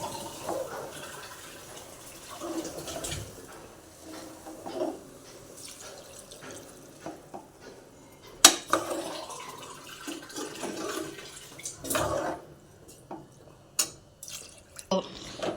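Water is poured into a cooking pot for chicken fry biryani: a quiet, uneven series of splashes and drips, with a few sharper pours standing out near the end.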